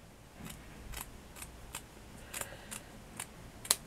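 Scissors cut through paper while shaping craft leaves, about ten crisp, close snips spaced out at a steady, unhurried pace, with a sharper click near the end and no talking.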